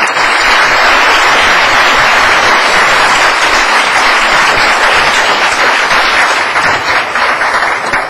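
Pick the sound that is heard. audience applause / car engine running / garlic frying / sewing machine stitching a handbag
audience applause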